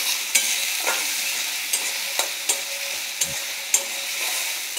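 Mustard paste being stir-fried in oil sizzles steadily, punctuated by a series of sharp, close scraping strokes from the stirring spoon at a rhythmic pace, with no voices.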